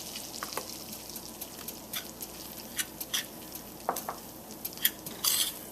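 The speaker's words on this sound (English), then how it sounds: "And I'm stirring it" A spoon stirs butter and flour together in a pan as the butter begins to brown, giving soft, patchy scraping and light sizzling patter with a few sharper spoon clicks against the pan.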